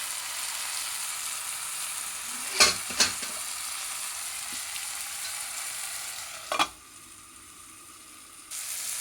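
Onions and tomatoes fry gently with fenugreek powder in a covered pan, giving a soft, even sizzle with a few sharp clanks from the lid being handled, after which the frying noise becomes muffled and quieter.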